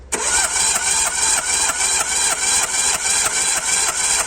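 A Peugeot car engine cranks on the starter during a compression test of the cylinders, giving a steady loud whirring with an even, rapid pulsing rhythm that runs without a break.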